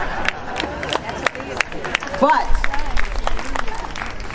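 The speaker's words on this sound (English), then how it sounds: "see, you're all clapping" An audience at a Patients 1st event speech claps in scattered, uneven bursts, blending with crowd murmur and a speaking voice in a hall.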